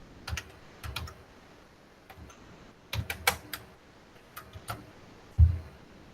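Someone types on a computer keyboard with irregular clusters of sharp key clicks and a heavier thump near the end, close and moderately loud over faint room noise, with no talking.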